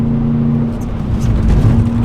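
BMW M3 E92 engine droning steadily with a low rumble while the car drifts at steep angles, loud and close throughout, swelling slightly near the end.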